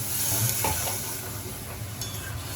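Masala paste for mango sasav sizzles steadily in a hot pan over a medium flame, a close, continuous fry with light stirring scrapes and no talk.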